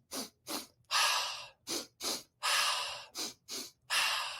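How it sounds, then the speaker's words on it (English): A psychological sigh breathing exercise: two short sniffing nasal inhales followed by one long breathy mouth exhale, repeated three times in a steady rhythm, close and clear with no talk. "you're going to do 2 inhales through your nose and 1 exhale out your mouth"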